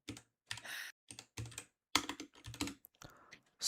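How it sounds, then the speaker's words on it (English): Bursts of clicky keystrokes on a computer keyboard, close and crisp, coming in irregular rapid clusters separated by short pauses, with no talking over them. "Let me just type it for a second."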